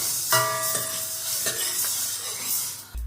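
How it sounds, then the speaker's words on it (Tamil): Mung beans, black pepper and cumin dry-roasting in a pan, a steady close scraping and stirring hiss with rhythmic metal spoon strokes against the pan, a brief tonal ring early on, and no talking. "இப்போ நான் இந்த எடுத்து வச்சிருக்கிறேன் இந்த மிளகு சின்ன சீரகத்தையும் இதில் போட்டு வறுக்கிறேன்"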